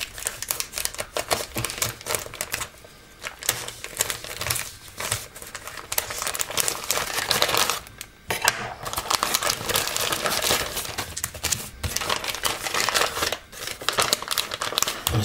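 Plastic packaging holding a set of credit-card-sized 3x magnifier lenses is torn open and handled, giving close, busy crinkling, crackling and tapping with short pauses and no talk.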